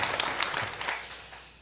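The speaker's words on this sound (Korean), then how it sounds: "금년 1년 동안 수고한 우리 성가대 큰 박수 한번 보내주시죠." A church congregation at a Sunday thanksgiving service applauds the choir, a soft, scattered burst of clapping that tapers off and fades toward the end.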